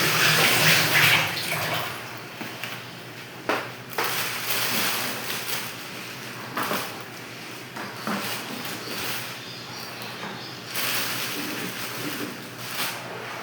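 Dishes are washed under a running tap in a home kitchen, water splashing and streaming steadily throughout with occasional clinks and knocks of crockery.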